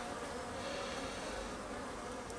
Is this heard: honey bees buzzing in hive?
yes